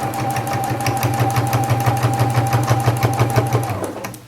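A home sewing machine stitches a shirt seam near the shoulder, a steady close, loud rapid mechanical whirr with an even needle rhythm that slows and stops at the end.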